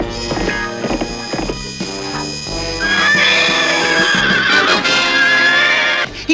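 A horse neighs in a Scooby-Doo cartoon scene, a loud rising whinny over dramatic music and hoofbeat-like clatter, with no talking.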